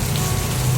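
Heavy rain pours down steadily and loudly, a dense continuous wash of drops on surfaces with low rumbling underneath and no voices.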